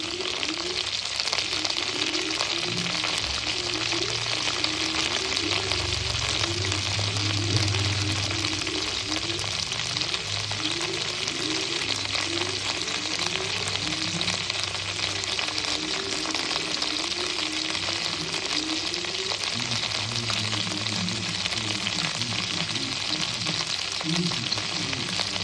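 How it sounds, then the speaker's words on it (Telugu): Ivy gourd and cumin seeds frying in hot oil give a steady, dense sizzle close up that holds at an even level throughout, with occasional stirring scrapes beneath. "ఆయిల్ వేసుకొని దొండకాయలు వేసుకొని కొంచెం ఇట్లా ఫ్రై లాగా చేసుకోవాలన్నమాట"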